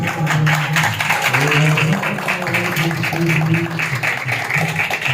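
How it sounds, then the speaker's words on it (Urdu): A church congregation applauds loudly to welcome the Holy Spirit, with dense, steady clapping running throughout and sustained musical tones underneath. "آئیے ہم روح القدس کو زوردار تالیوں کے ساتھ ویلکم کریں۔"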